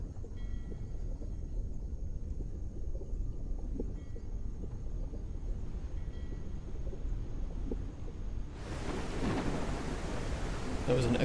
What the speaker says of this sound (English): you can still hear some of the rain and like thunder sounds and such